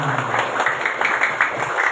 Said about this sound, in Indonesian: untuk semangat tepuk tangan sekali lagi untuk kita semua